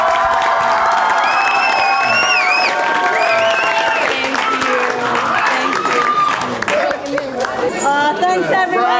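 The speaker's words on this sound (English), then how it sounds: "I think our teachers here particularly deserve another round of applause" A crowd at a school musical production of The Pirates of Penzance claps for the teachers, a dense round of applause with cheers and a few whistles, mixed with crowd chatter and voices throughout.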